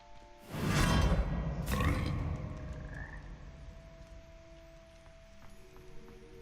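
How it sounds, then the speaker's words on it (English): Frogs in the Hogwarts Legacy video game let out loud, deep croaking belches, two big bursts close together near the start that fade into a quieter game backdrop with faint chimes. "All this time being belched by frogs."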